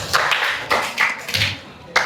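Students in an Indonesian classroom clap their hands in short bursts, several separate rounds of claps rising and fading, with a little voice mixed in.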